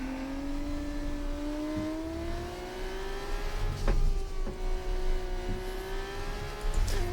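An F1 car engine in the F1 24 racing game at the Spa circuit holds a loud, continuous whine that slowly climbs in pitch, with a few brief gear-change dips and no talking.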